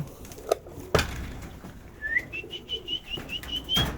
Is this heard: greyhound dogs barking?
no